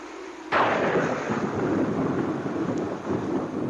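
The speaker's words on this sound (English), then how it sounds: "Looks like a storm, Lieutenant." Thunder of an approaching storm: a sudden loud crack-like onset that rolls into a long, broad rumble, slowly decaying and swelling again, with no voices.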